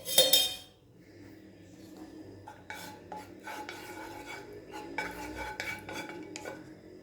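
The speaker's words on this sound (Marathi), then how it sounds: "या तुपामध्ये हे बेसन पीठ छान भाजून घ्यायचं आहे बारीक गॅसवरच भाजून घ्यायचं आहे" Gram flour being roasted in ghee in a pan over a low flame for til poli filling, heard as a sharp clatter at the start followed by steady scraping and clinking of a utensil against the pan, close and fairly quiet, with no talk.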